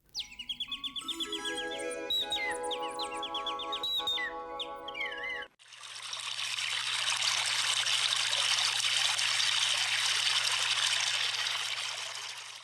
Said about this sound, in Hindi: नदी है, बढ़िया कल कल पानी बह रहा है यार